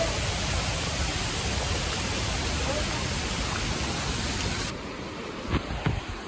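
The Barki waterfall near Kolhapur sends a steady, loud broadband roar of high-pressure rushing water that eases slightly near the end, where a few brief knocks cut through.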